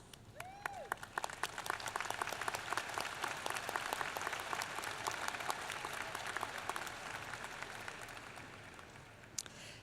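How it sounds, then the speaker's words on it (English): A commencement audience applauds steadily for about ten seconds, a dense wash of many hands clapping in a large hall with no talking over it. "give them a round of applause"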